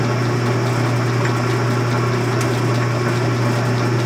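An old Logan 10 by 24 metal lathe runs with a steady, even mechanical hum and whir, its handle being moved, the drone constant throughout without voices.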